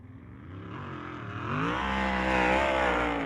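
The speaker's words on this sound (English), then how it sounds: "Tomahawk's number 8 car sound a little sharp as well there for the Peoria, Arizona racer" A number 8 sprint race car at a speedway during USAC Western World racing, its engine loud and rising in pitch as it accelerates onto the track, building from a rough idle to a sharp, steady roar.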